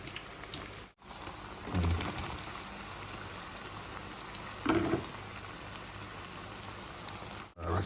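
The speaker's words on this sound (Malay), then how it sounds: "goreng tempe" Sliced tempeh fries in hot oil with a soft, steady sizzle and crackle like light rain, fairly quiet and close, with brief louder spatters at a couple of moments.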